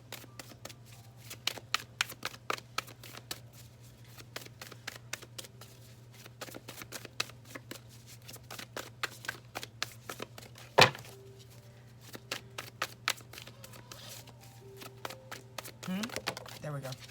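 Tarot cards being shuffled by hand during a full moon reading, a long run of quick, crisp riffling taps and flutters close up, steady through the clip with a sharper snap near the middle.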